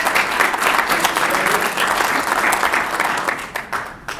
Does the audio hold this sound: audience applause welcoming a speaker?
yes